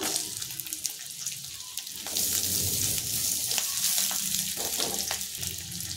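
Garlic and ginger frying in a pan for chicken sokbaji: a soft hiss that swells into a louder, steady sizzle after a couple of seconds, with watery crackle and no talking.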